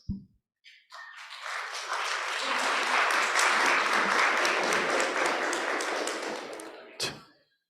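Audience applause after a medical presentation on hypertension and hypercholesterolemia combination therapy, a dense sustained crowd clapping that swells in, holds steady for several seconds, then fades with a final sharp clap.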